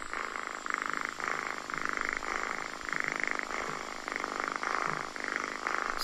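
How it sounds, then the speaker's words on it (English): A cat purrs close up in soft, rhythmic waves, each inhale and exhale pulsing gently and steadily with no other sounds. "if you kind of know what that sounds like, well, that's my new cat, or our new cat"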